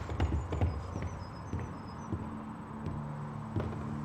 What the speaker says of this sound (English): All you can hear is your own footsteps.